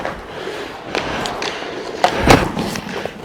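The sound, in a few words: hockey pucks shot at goalie, bad rebound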